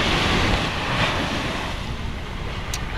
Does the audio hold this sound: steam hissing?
no